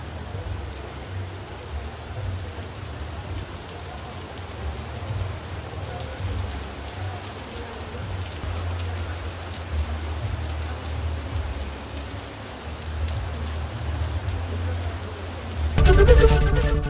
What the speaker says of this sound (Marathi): बीड जिल्ह्यामध्ये अचानक विजांच्या कडकडाटासह गारपीट झाली आहे